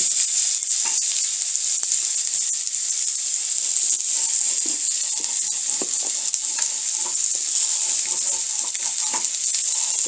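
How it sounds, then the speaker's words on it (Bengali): Potatoes fry in hot oil in a kadai, a steady close bright sizzle and hiss with occasional light stirring clicks and pops, no voices. "এবার আলুগুলো ভেজে নেব"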